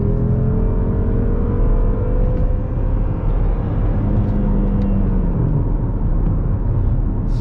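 A white 2012 BMW M5 F10 with a 4.4 engine accelerates at full throttle, heard from inside as a loud, continuous engine roar and rumble that holds steady throughout, with no speech.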